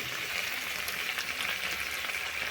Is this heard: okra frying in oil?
yes